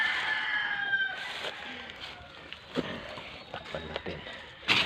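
Chickens cluck and a rooster crows at moderate distance, with scattered scuffing and rustling noises nearby and a murmur of voices in the background.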